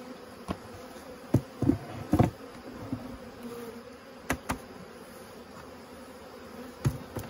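Honey bees hum in a soft, steady drone, with occasional louder buzzes as individual insects fly close past.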